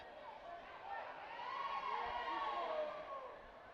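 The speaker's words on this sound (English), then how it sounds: "The Brazilian fans and the Thai fans giving each other a cheering battle, a cheering contest" Brazilian and Thai fans trading chants and cheers at a women's boxing match in an arena, a swelling, fairly distant crowd roar rising and falling, with a commentator talking over it.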